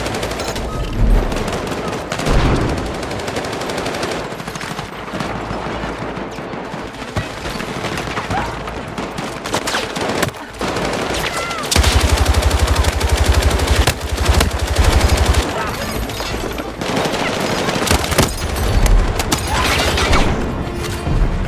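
Constant gunfire from a Battlefield 6 match, rapid automatic bursts and single shots layered with distant booms, loud and dense throughout with brief muffled talk.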